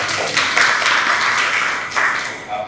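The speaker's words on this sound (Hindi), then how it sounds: "एक बार तालियां बजाइए।" Seminar audience applauding a police speaker at a Rotary Club event in Mumbai, a dense, steady patter of many hands that swells briefly near the end and fades out.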